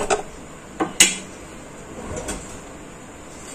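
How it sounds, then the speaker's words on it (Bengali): A gas stove is lit under a kadai, with sharp close clicks of the igniter and a metallic knock near the start, then a quiet hiss of burning gas. "এবার কড়াইটা বসানো আছে, আমি এবার গ্যাসটা জ্বেলে দেব।"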